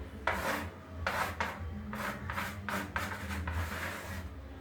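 Chalk shading a shape on a classroom board during a maths lesson: a series of quick, scratchy rubbing strokes in irregular bursts, close and fairly quiet, with no talking.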